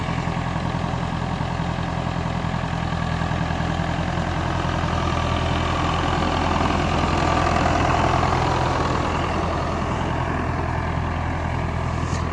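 Massey Ferguson 698 tractor diesel engine running steadily at close range, a loud continuous low-pitched throb with mechanical clatter, holding an even idle while gears are shifted; no voices.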